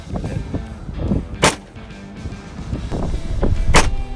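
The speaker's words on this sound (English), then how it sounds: "Here we're shooting at about 75 or 80 feet with really high winds out in the middle of an open field." A RIA M1911-A1 .45 pistol fired outdoors in an open field in high wind, two sharp shots a couple of seconds apart over a steady rumble of wind buffeting.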